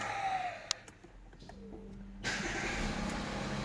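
An Audi A6 C8 engine cranks briefly, then catches and settles into a steady idle hum close by, with a few small clicks before it starts.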